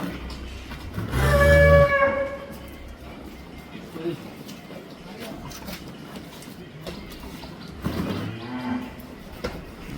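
A pure-bred, high-class dairy cow on a farm in Mawna, Gazipur lets out one loud, close moo near the start, followed by quieter farm ambience with people talking.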